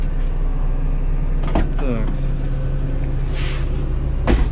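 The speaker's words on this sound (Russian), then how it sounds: "Открою все двери, открою свои." City bus doors open in quick succession with whirring motor sweeps and thuds over a steady idling engine hum. Someone says a brief word.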